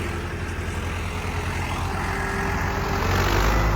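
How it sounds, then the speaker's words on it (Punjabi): An old Sonalika 750 tractor drives in with a steady low diesel rumble that builds slightly louder toward the end, heard fairly close with no voices over it. "ਲੋ ਜੀ ਅੰਦਰ ਲਾ ਰਿਹਾ ਟਰੈਕਟਰ"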